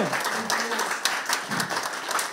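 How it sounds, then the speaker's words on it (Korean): An audience at a political lecture on Korea's presidential impeachment breaks into brief, moderately loud applause, a scattered burst of clapping that holds for a couple of seconds without speech. "여러분 박수."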